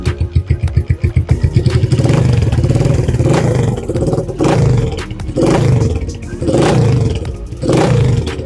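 A motorcycle engine idles with a steady rough chug, revving up in several loud surges and settling back between them, close to the microphone.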